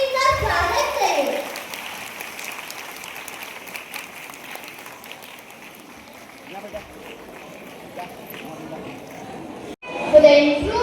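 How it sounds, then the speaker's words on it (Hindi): An audience at a school celebration program for students with disabilities applauds to welcome a Christmas dance performance, a broad, continuous clatter of clapping with voices mixed in, swelling again near the end. "कृपया जोरदार तालियों से इनका स्वागत करें।"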